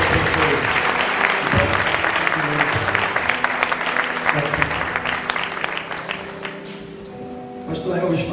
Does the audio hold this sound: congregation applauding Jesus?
yes